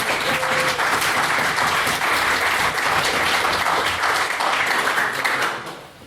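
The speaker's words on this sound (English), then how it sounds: "And I ask again, please, for a second round of applause for Mr." Audience applause for a speaker at a formal debate, a loud, dense burst of clapping that holds steady for several seconds, then fades out at the end.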